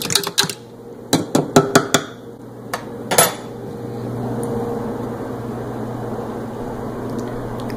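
A spoon clinks rapidly against the inside of a cup while a pre-workout drink is stirred, giving a quick series of bright metallic taps that stop and leave a faint steady background hum.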